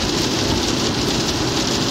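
Steady, dense rain drums on a moving vehicle during a drive, a continuous broadband hiss with low road rumble underneath, loud and even from start to finish, no voices.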